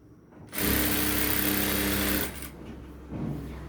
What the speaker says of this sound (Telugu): లైనింగ్ మీద కుట్టు అనేది వేయాలి. ఇలా ఫోల్డ్ చేసి నీట్గా